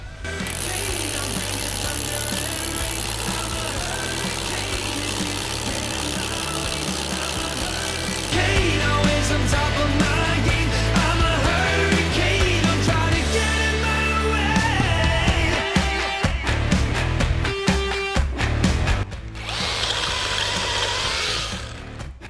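A Revolt RH 2030 HD cordless rotary hammer, running on a 4 Ah battery, drives an 18 mm bit deep into reinforced concrete, a loud, continuous hammering rattle that shifts in pitch midway and eases briefly near the end.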